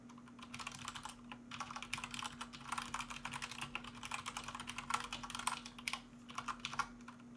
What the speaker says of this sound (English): I don't know why I'm typing it.